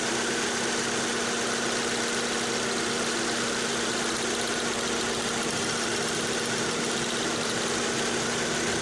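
Car engine idling with one spark plug HT lead pulled, running steadily with no misfire on cylinder 4; a continuous even drone with a constant low hum, close and alone without talk.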